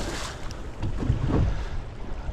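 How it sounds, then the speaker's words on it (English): Strong wind sweeping across a Texas lake while fishing from a boat, a loud roaring gust buffeting the microphone with low rumble and rushing noise, no voices. "it's pretty windy out here, and this is supposed to be the low end of it"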